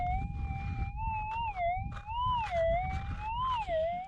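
A gold metal detector on a hillside near Tibooburra sounds a loud, wavering electronic tone over a hot rock, the pitch sliding up and down in smooth swells against low rumbling ground noise.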